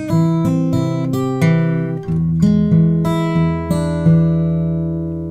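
Plucked guitar notes ring out in a bouncy, syncopated ragtime blues phrase over a steady bass line, clear and close with no talking.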